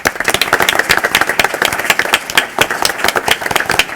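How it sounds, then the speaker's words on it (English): Dense, steady applause from an audience at a Chicago Board of Education monthly meeting, honoring a group of scholars; many hands clap at once, close and loud, for about four seconds with no talk. "Please join me in one more round of applause for these outstanding scholars."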